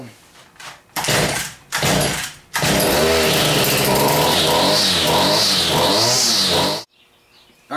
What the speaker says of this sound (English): I adjusted on the carburetor a little bit. Seems to be running really good now.